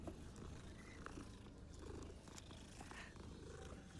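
A cat purring steadily as it is petted in Hogwarts Legacy, a soft continuous low rumble that stays faint and even throughout, with no talking.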